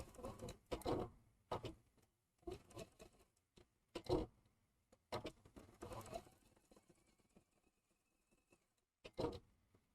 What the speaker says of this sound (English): As you can see, no problem going through all of these layers on this machine.